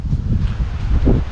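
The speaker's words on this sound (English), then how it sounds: "excuse the wind" Strong wind buffets the microphone near the stone wall of Howden Dam in the Peak District, a loud, continuous low rumble with gusty swells lasting the whole moment.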